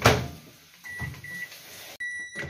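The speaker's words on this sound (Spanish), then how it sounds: "La vamos a calentar aquí a microondas" A microwave oven heats cooked potatoes in a home kitchen, a low hum with a thud at the start, a few faint beeps, then a door-like clunk, quiet and without voices.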